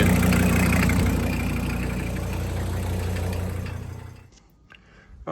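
A VW T4 camper van's engine idles with a steady low, even rumble at close range, then cuts out near the end, leaving near silence.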